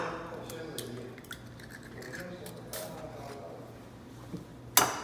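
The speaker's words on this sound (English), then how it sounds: "now we're gonna crack the eggs to scramble them" Eggs being cracked for scrambled eggs in a home kitchen while making fried rice. Soft handling clatter leads to a single sharp, close crack near the end.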